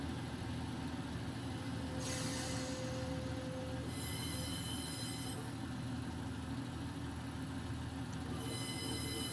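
A Class 142 Pacer diesel train in a railway simulator runs across the Pennines between Manchester and Leeds, giving a steady engine drone and rolling wheel noise with repeated squealing and rattling bursts, loud and continuous with no speech.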